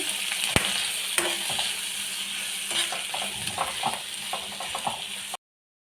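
Clam meat frying over medium flame in coconut oil with curry leaves, a steady close sizzle with occasional clicks and scrapes from stirring, no talking.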